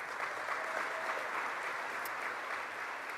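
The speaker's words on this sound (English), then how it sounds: "Give them a round of applause." Audience clapping for mothers on Mother's Day at a community announcement in Buffalo, a steady dense patter of many hands held at an even level throughout.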